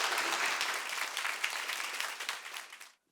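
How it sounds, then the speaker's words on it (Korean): A church congregation claps vigorously in welcome for a visiting missionary, sustained dense applause that fades out near the end. "힘찬 박수로 우리 선교사님 모시겠습니다"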